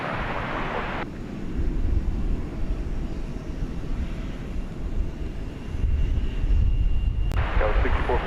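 An Envoy airliner taking off at night from runway 18 left at DFW Airport produces a loud, sustained broadband engine roar that swells and holds throughout.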